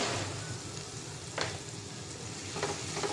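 Onions and green chillies fry in a pan with a steady, close crackling sizzle that holds throughout, broken by a couple of brief louder stirring scrapes.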